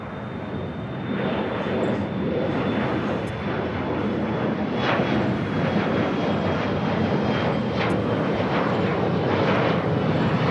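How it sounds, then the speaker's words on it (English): A Boeing 767-300ER arriving from San Francisco at LAX on the south side produces a steady jet engine roar with a whining high tone, building slightly as it comes closer, with no talk over it. "767-300ER coming from SFO, flight 1820, next arrival here on the south side"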